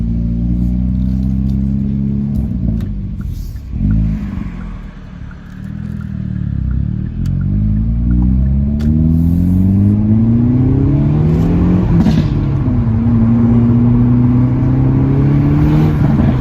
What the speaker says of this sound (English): Got a little bit of a burble for the boys.